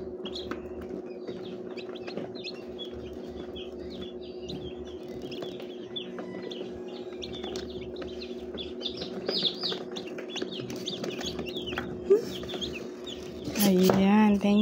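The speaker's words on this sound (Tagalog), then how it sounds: "Ayan, napisa na po sila." Newly hatched chicks from a manual incubator peep in rapid, high, overlapping chirps over a steady low hum, with people talking nearby and a brief louder clatter near the end.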